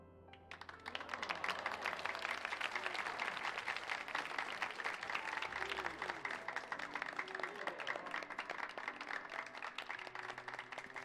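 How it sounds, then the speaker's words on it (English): Applause from a game crowd in Final Fantasy XIV: dense, steady clapping that starts about a second in and continues evenly for roughly ten seconds, moderately close, with faint game sounds beneath. "Clap, clap, clap, clap,"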